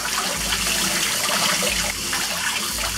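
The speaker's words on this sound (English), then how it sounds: "I'm using cold water. And we're going to rinse it a few times." Cold tap water runs steadily onto raw beef being rinsed, a continuous loud splashing gush with no talk over it.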